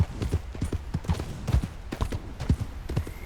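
Horse hooves clip-clop at a steady riding pace in Red Dead Redemption 2, a close, rhythmic run of hoofbeats at moderate loudness against a light game background.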